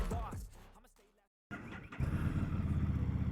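A 2020 Harley-Davidson Street 750 motorcycle with a Screaming Eagle exhaust starts up after a brief silence, then idles with a loud, close, throbbing rumble as a voice talks over it.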